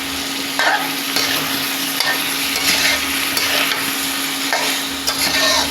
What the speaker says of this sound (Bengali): আবারও নেড়ে দিচ্ছি।